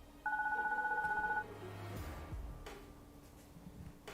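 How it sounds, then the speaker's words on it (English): A baby phone in the Deponia game rings with one steady electronic trill of about a second, followed by soft clunks and handling noise, no speech. "Oh, my baby phone's ringing."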